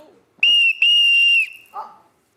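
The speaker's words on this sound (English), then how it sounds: "Who blows the whistle?" A loud, shrill whistle blown twice close by in a TV talk show studio, a short blast then a longer sustained one, followed by a brief rustle.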